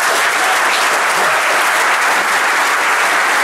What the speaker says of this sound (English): So a round of applause for our first time speaker.